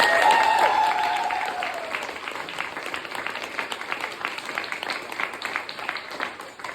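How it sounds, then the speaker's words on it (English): Audience applause at a 25th anniversary prom and awards evening, starting loud over a brief held tone, then settling into steady, dense clapping that gradually thins and fades. "So big round of applause for Sam Ashford."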